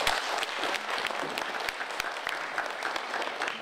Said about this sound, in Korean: 박수 소리도 좀 훨씬 더 커졌습니다